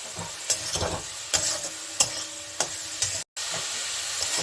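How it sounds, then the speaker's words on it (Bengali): Spice paste cooks down with a little water in a pan for an okra and egg dish, giving a steady hissing sizzle punctuated by several sharp, close stirring scrapes at an uneven rhythm, with a brief break near the end. "আমি অল্প জল দিয়ে এটাকে একটু কষিয়ে নিচ্ছি, নইলে মশলাটা পুড়ে যাবে।"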